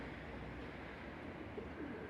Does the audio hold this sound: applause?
no